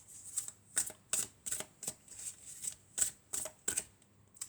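Oracle cards are shuffled in about a dozen quick, crisp riffling bursts at an even rhythm, close and fairly quiet, with no speech.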